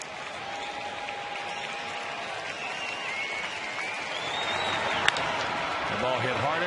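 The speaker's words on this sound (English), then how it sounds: "it's been a lively crowd tonight as they come to their feet looking for out number 3" A lively baseball crowd at a Braves series game in a stadium cheers and applauds steadily, a broad continuous wash of noise that swells slightly toward the end as fans come to their feet, with a sharp crack near the close.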